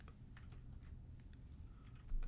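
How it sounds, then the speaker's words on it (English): Keys tapped on a computer keyboard, a quiet irregular run of light clicks with low room rumble underneath and a louder bump near the end. "I'm gonna see if I can get my keyboard to work."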